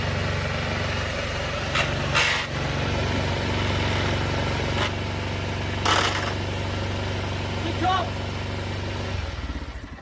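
A 2004 Boom trike's Piaggio 500 engine idles steadily at fairly high revs, too high for the reverse gearbox to engage, a constant humming drone with a few brief bursts of noise over it.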